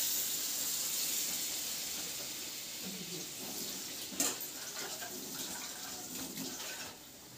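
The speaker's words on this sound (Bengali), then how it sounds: "এর মধ্যে আমি এবার জল দিয়ে দেবো।" Water poured into a pan of browned, well-fried mutton, a continuous hissing splash and sizzle that settles into a steady simmering rush, with faint kitchen clatter.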